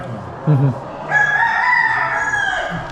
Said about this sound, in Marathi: याच्यामध्ये पूर्ण प्युअर गावठी कोंबड्या आहेत